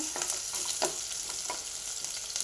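Small chopped onion pieces fry in oil, giving a quiet continuous sizzle with a few light scraping stirs scattered through it.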